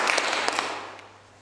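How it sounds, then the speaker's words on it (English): A short round of applause at a club meeting: a brief burst of scattered claps from a small group that quickly thins and fades into quiet room tone. "So quick round of applause for Irina."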